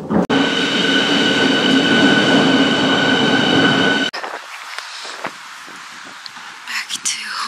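Train ride in Berlin: a loud, steady rumble and whine of the rail car that cuts off abruptly, giving way to quieter station or platform noise with scattered clicks and faint voices.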